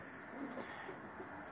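Pigeons in a pigeon loft, soft low cooing calls repeating a few times over a faint steady background hiss, close but quiet.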